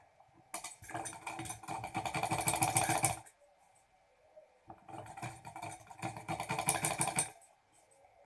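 Sewing machine stitching a round neck collar band, heard as two steady, close bursts of rapid mechanical chatter, each about three seconds long with a short pause between them.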